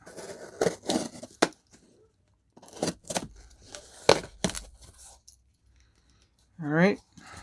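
Tape being cut and torn open on a Seiko Tuna SBBN043 watch box, heard as sharp clicks and snips in bursts, closing with a loud rising rip of tape pulled away.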